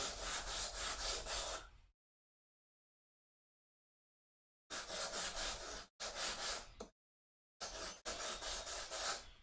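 A hand tool rasps along the edges of wooden bookends to chamfer them, in close, loud bursts of quick back-and-forth strokes separated by abrupt silent gaps.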